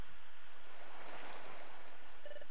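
Ocean waves wash on a seaside horizon scene in the Pokémon Mystery Dungeon game, a continuous soft surf and wind-like rush with no talking.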